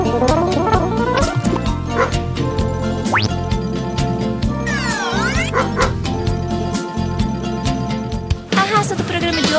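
Dogs bark in short, sharp yips and woofs mixed over a busy musical backdrop, fairly loud and repeated throughout.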